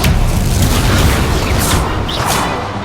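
The Expelliarmus spell in Hogwarts Legacy is cast with a loud booming burst and whooshing rush that fades gradually over a few seconds, with no talking.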